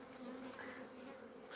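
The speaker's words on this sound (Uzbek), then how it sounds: "Asalarlarimiz harakatda." Honeybees buzz steadily at a wooden beehive in winter, a dense continuous drone of many insects close by, with no talking.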